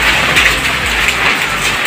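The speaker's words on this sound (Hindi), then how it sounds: "ज्यादा मात्रा में ओले और उसके साथ आंधी भी" Heavy rain with hail pouring and drumming hard on a surface during a windstorm, a loud dense hiss with pelting impacts throughout.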